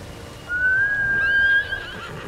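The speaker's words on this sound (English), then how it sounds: "Good horse, Nobu" A horse in the Ghost of Tsushima video game lets out a single loud, close whinny lasting just over a second, high and quavering over faint background noise.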